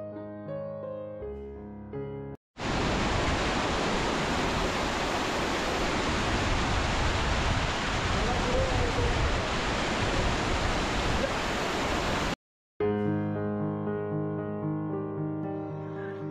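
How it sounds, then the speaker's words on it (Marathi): A waterfall on the Lonavala to Bhimashankar trek in the Sahyadri hills roars as a loud, dense, continuous rush of falling water, cut in abruptly and ending just as suddenly, with background music before and after. "वाटेत आपल्याला हा सुंदर वॉटरफॉल लागतो."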